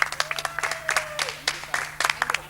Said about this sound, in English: Come on, everyone, give him a clap